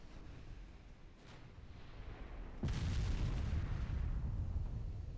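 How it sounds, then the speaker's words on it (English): A shell hit exploding on a warship in the naval game Ultimate Admiral Dreadnoughts: a faint early thump, then a sudden loud broadband blast that rumbles on heavily for a couple of seconds. "That was a devastating hit on this ship."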